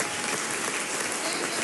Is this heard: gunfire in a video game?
no